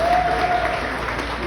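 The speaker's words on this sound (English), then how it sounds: "let's give a big round of applause to all the Dallas County volunteers" Crowd applause for Dallas County volunteers at a GOP rally in Iowa, dense steady clapping throughout with a tone running underneath.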